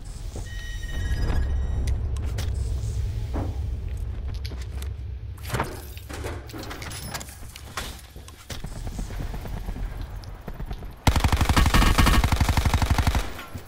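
Gunfire in the Call of Duty Blackout battle royale game: bursts and single shots crack through a busy, loud mix of in-game noise, ending in a dense, sustained rapid-fire burst near the end.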